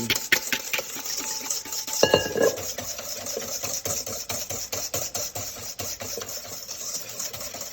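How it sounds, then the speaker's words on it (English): A whisk beats sugar into eggs and egg yolks in a bowl, with quick repeated metallic ticks and scraping in a steady rhythm, close up, and no talking. "I'm going to add that to my egg and my egg yolks. And I'm going to whisk this together really good"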